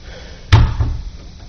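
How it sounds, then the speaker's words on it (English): A door slams shut once in a quiet room where a civil rights oral history interview is about to be recorded, a single close, heavy thud with a brief rattling tail before the room settles back to quiet. "I'm gonna close the door and keep out the sound."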